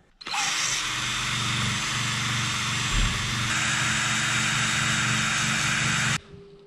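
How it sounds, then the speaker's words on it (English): Buffing tool stripping paint off a metal ATV frame down to bare steel during gusset work, a loud steady whine that holds for about six seconds and then cuts off, with no one talking. "I'm gonna try and buff this out a bit, clean it up so I get some good contact"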